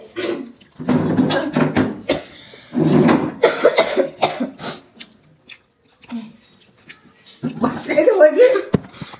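Coughing and retching during a vomiting prank at a meal: harsh coughs and gagging bursts come in clusters, up close, broken by gaps and mixed with voices talking.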